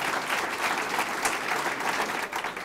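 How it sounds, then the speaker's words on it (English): Audience applause for teachers and staff at a school district event, a steady, full clapping crowd sustained throughout without pause. "Let's give them a round of applause, please."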